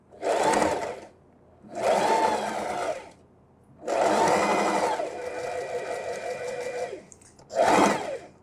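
Sewing machine stitching a fine hem along the decorative border of a dish towel, running in four close, loud bursts of whirring motor, with a longer steadier run in the middle and short pauses between.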